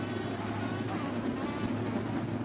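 Race cars in a sim racing video game sit revving on the grid at the start of an All-Star Series event, a steady, loud engine drone with little change in pitch throughout.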